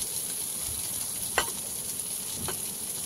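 Fish masala frying in a pan sizzles steadily while buttermilk is poured in, with two brief sharper splashes or clinks rising over the continuous hiss.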